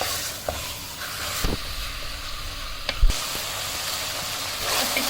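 Minced meat keema being fried with spices in a pan, a steady close sizzle and hiss with a few brief stirring clicks and scrapes, no talking.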